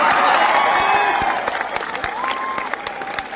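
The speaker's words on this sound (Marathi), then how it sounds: "जोरदार टाळ्या वाजवा" A crowd applauds steadily, a dense wash of clapping that stays loud throughout with a few sharper individual claps.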